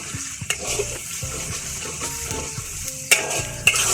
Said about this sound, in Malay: sebab kita sekarang masukkan ginger dengan garlic yang dah kita tumbuk